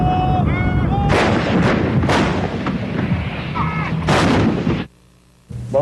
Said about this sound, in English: The artillery of all the allies is engaging the Iraqis on the ground.